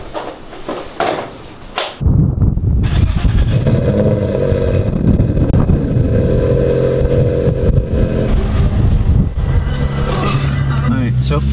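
A car rolls off on newly fitted tires, starting with a few knocks and faint sounds before a loud, continuous road and engine rumble takes over and holds steady for around ten seconds.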